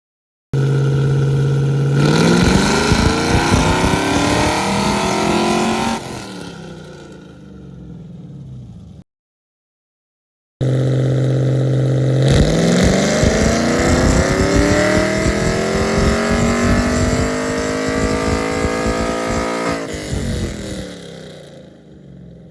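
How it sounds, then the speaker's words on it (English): A cammed LS3 V8 in a Camaro with a Stage 3 Texas Speed cam kit revs up hard on a chassis dyno, loud and sustained with a rising pitch, then drops off and revs through a second long pull. "I'll show you guys what it sounds like and kind of the numbers it puts down and how it reacts"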